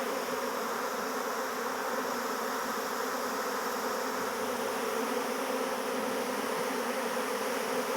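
Honey bees buzzing around an open hive during an inspection, a dense, steady drone that holds at an even level throughout, with no talking.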